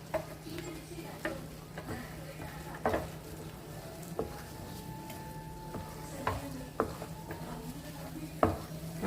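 A mung dal halva mixture is stirred in a hot pan with a spoon, producing soft sizzling under a series of quiet, irregular scraping knocks and clinks against the pan.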